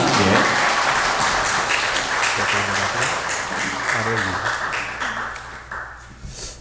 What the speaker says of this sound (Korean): 여러분이 나오실 때 박수로서 한번 환영했으면 좋겠습니다